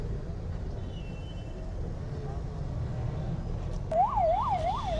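Ambulance siren wailing in traffic on a Chennai to Kanniyakumari bus journey, entering in the last second over a steady rumble of road and engine noise.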